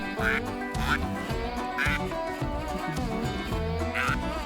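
A mallard duck quacks repeatedly in a rapid, nasal series, loud and close, with brief pauses between bursts, in marshland near a river during a duck hunt.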